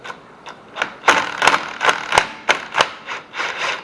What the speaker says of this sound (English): Easiest way to do it is get you an impact and just slightly tap on it.